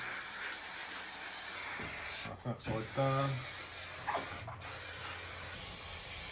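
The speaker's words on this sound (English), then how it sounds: "So we've got spray contact adhesive. Give it a really, really good coat." Spray contact adhesive sprays in a steady, close hiss from an aerosol can, broken briefly by short pauses and a few clicks while someone speaks.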